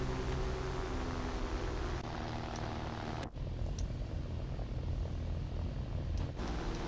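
British aircraft engines in a flight video game drone steadily with a low propeller hum, quiet and continuous, broken by two brief abrupt dropouts.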